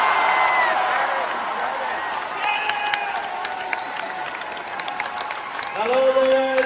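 Star Wars Celebration Anaheim convention crowd applauding and cheering in a large hall, a steady dense wash of clapping with scattered whoops and a voice over the PA rising near the end.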